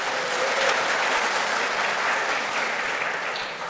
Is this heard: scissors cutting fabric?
no